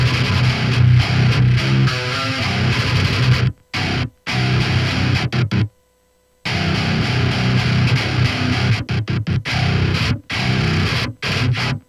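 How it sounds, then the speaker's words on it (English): Loud, tight metal guitar chugs from a processed DI signal with thick distortion and a heavy low end, riffing in bursts broken by sharp stops and brief silences. "Now let's take a listen to the process signal."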